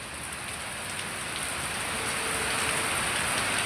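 Heavy rain pours steadily just outside an open doorway, a dense continuous hiss of drops on surfaces that holds even and loud throughout, with no voices.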